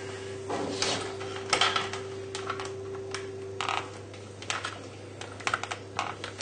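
A spatula scrapes marzipan biscuit mixture out of a food processor bowl into a mixing bowl, making intermittent close scrapes, taps and clacks with short pauses between them.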